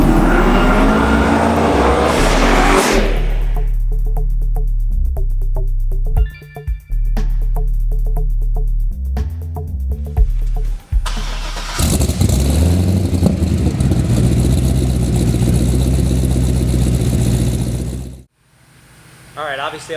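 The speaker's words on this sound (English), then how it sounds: "this is a 2007 Chevy Corvette Z06 twin turbocharged, making 1200 horsepower" A twin-turbocharged 2007 Chevy Corvette Z06 making 1200 horsepower roars loudly up close, its engine revving hard in bursts, dropping to idle between pulls, then surging into a long sustained run before cutting off abruptly.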